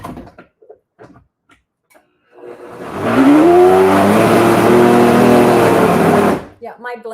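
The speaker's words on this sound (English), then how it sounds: "my blender's about to fly off the countertop" A countertop blender churns thick avocado dip in one loud, sustained burst of a few seconds, its motor straining with a rising pitch; a person speaks briefly before and after.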